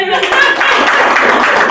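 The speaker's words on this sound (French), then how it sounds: "Applaudissez pour Grand M." A brief burst of close, loud clapping rings out for the performer Grand M, hands striking in a quick dense flurry with voices mixed into it.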